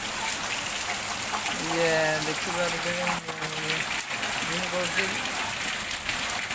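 Steady rain falling during a monsoon in Odisha, a constant dense hiss throughout, while someone speaks over it.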